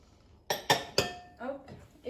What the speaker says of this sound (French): je vais venir ajouter la farine en une fois